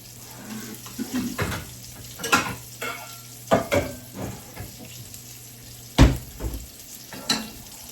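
Potatoes frying in a small skillet on a stove, with a steady sizzle under repeated sharp clattering stirs and scrapes, close and fairly loud.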